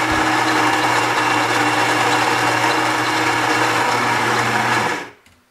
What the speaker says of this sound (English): So first, grinding our beans.